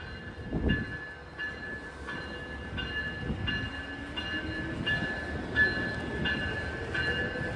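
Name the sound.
Capitol Corridor passenger train departing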